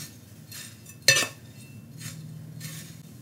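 A small tool scrapes and stirs potting soil mixed with perlite and lava stones for a succulent planting, giving soft gritty rustles and one sharp clink near the start, close and quiet with no talk.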